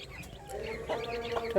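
A desi rooster on a poultry farm clucks in short, soft bursts, fairly close but quiet, with a faint murmur of background noise.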